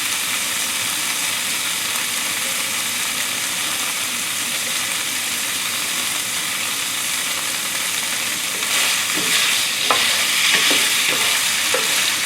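Firm tofu and vegetables stir-frying in a pan over medium-high heat give a continuous loud sizzle, with a few scraping stirs and sharper bursts of spitting near the end.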